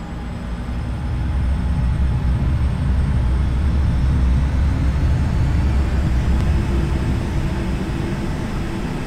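An F-15 Eagle jet fighter takes off from runway 25 at Frankfurt, a broad, loud roar that swells within the first couple of seconds and holds steady, heard from a distance with no voices.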